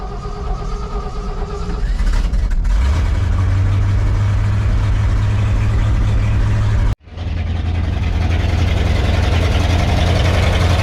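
A Ford F600 truck engine cranks and catches after about two seconds, then settles into a loud, steady idle with a brief cut-out and quick recovery near the end; no talking.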